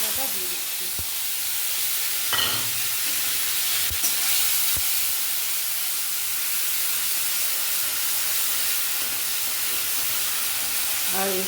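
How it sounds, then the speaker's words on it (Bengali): Ground spice paste for a kochu mocha chingri curry hits hot oil with whole garam masala, a steady loud hissing sizzle that carries on evenly, broken by a few small pops and clinks of stirring. "ওই বাটা মশলাটা দিয়ে দিচ্ছি।"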